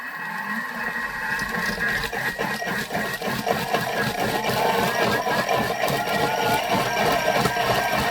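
A Thermomix whirs steadily while blending shrimp bisque, a constant motor drone with a rattling texture that runs at even loudness through the whole stretch.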